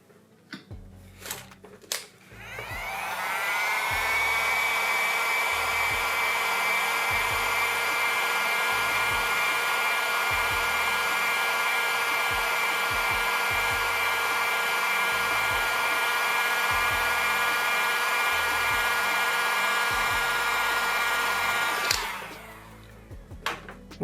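A heat gun blows steadily while warming the front sensor on an Honor 70 phone during a screen and glass replacement, a loud even rushing hiss lasting about twenty seconds, switched on and off with faint handling clicks around it.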